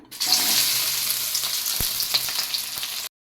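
A large chopped onion fries in hot palm oil, producing a dense, loud, continuous sizzle up close with a few small crackles and pops, then cutting off abruptly.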